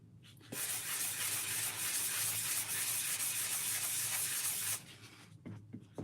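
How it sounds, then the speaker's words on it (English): Close, steady raspy rubbing of a sanding sponge working over wood, continuous for about four seconds before stopping. "I'm going to flip my sanding sponge just because it's getting kind of dirty."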